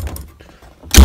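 A Wanderlodge WB coach's entrance door latch releases, pulled by a rod from the handle: faint rattling and rustle, then one solid, loud metallic clunk at the very end.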